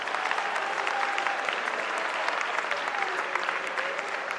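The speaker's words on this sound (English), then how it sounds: "Let's give all of them another round of applause" Sustained, even audience applause fills an auditorium at a Bowie State University Founders Day ceremony, a close, busy wash of clapping with a faint murmur of the crowd beneath.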